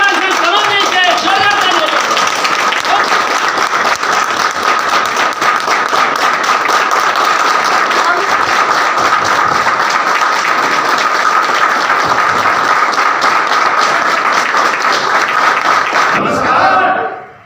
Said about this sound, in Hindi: धमाकेदार तालियों से स्वागत कर दे